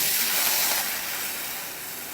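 Water is poured into a hot pan of buttered rice and hisses loudly with a dense steamy sizzle up close, fading slightly after the first second.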